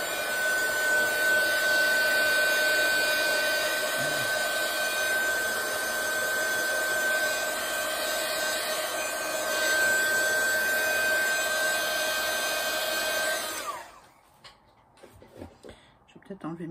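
A hair dryer drying ink on a moodboard blows with a steady, loud whir and a high whine for about fourteen seconds, then switches off abruptly, leaving light handling noises.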